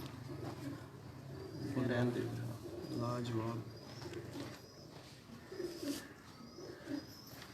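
Pigeons of the Goli bloodline, kept as Teddy pigeons, coo in low, soft bursts close by, mostly beneath people talking in Hindi or Urdu.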